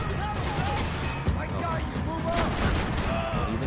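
Gunfire crackles through a rooftop shootout in Max Payne 3, a continuous dense fusillade of shots with a sharp hit near the middle, heard under excited shouted voices.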